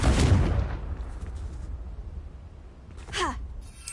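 In Hogwarts Legacy, the explosive Confringo spell erupts in a loud, deep blast at the start that rolls off into a rumbling decay, with a short whooshing, falling effect near the end.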